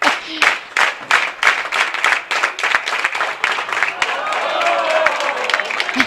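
A crowd at a men's bowling World Cup final claps in a burst of rhythmic, fairly close applause that thins into scattered clapping, with an announcer's voice talking over it.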